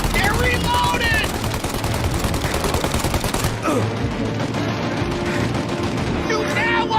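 Dense gunfire rattles through a shootout in Mafia: Definitive Edition, with rapid machine-gun bursts and overlapping shots close and loud throughout, and shouted voices breaking in at moments.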